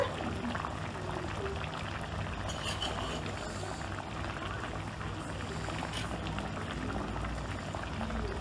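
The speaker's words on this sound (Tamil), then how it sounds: "இந்த மண் சட்டியில் இருக்க நல்ல சூடு இருக்கு, அதனால நல்லா கொதிச்சுட்டே இருக்கு" A fish curry in a clay pot bubbles and simmers steadily throughout, a dense continuous burbling with no voices.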